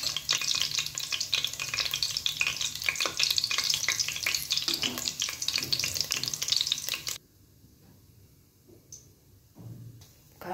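Cinnamon, clove, cardamom and fennel fry in hot oil for prawn biryani, giving a loud, dense crackling sizzle with stirring scrapes that stops abruptly, followed by quieter faint clinks.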